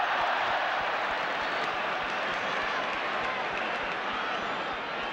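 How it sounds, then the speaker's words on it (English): Dense, steady roar of a football crowd at West Bromwich Albion v Liverpool, a broad wash of noise with scattered claps and shouts holding level throughout, no clear voice on top. "Crowd growing restless as Liverpool build up with rush"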